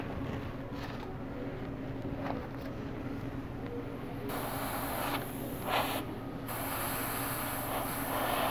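Spray paint hisses from an aerosol can over a stencil, a steady airy spray running throughout with a brief break partway, mid-level and close, with no talk over it.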